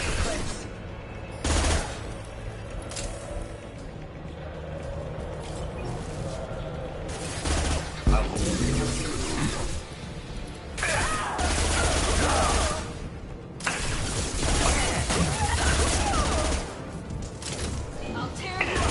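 Sustained bursts of gunfire from a Mass Effect firefight rattle through the whole stretch, mixed with mechanical clatter and impacts, with voices calling out over the shooting.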